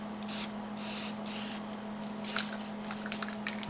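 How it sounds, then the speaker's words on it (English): A balky bottle of red spray paint is used on an axe during a restoration. It gives several short hissing bursts, close and fairly soft, with a faint clink, over a steady background hum. "let's hit this with a little bit of red spray paint"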